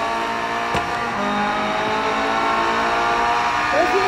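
A race car engine in the Need for Speed No Limits mobile game drones loudly and steadily, holding a high revving tone with a sharp click early and a brief rising whine near the end.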